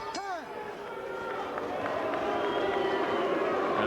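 Crowd noise in a boxing arena during a Felix Trinidad fight, a rising wash of murmur and cheering that swells toward the end, with a few brief vocal bursts near the start.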